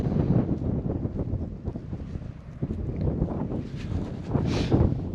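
Gusty wind buffeting the microphone at a lakeside campsite by Annascaul Lake in Ireland, loud rumbling surges rising and falling, with a brighter gust near the end.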